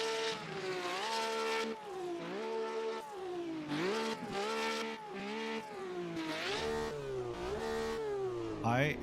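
Race car engine in the Automobilista 2 sim racing game revving hard and repeatedly, pitch climbing and falling in rising sweeps, loud and continuous throughout with no talk over it.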